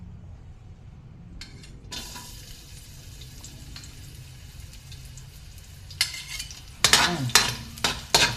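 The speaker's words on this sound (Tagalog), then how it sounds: "I-brown natin ang ating bawang." Garlic fries in a pan with a faint, steady sizzle, then louder scraping and clinks of a utensil stirring toward the end, with a brief spoken word.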